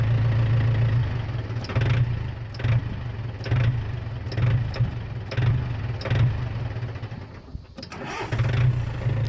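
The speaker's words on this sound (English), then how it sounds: "I'm gonna go split it with the tractor." A tractor engine runs steadily, powering a homemade log splitter, with a loud low drone that pulses in rhythmic surges every second or so, dipping briefly near the end before picking back up.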